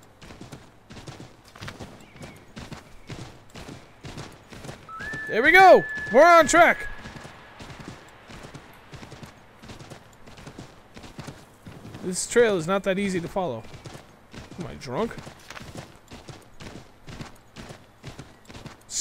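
Rhythmic clip-clop of a horse's hooves in Assassin's Creed 3, steady and close throughout, with a couple of brief whinnies breaking through while someone talks over the top.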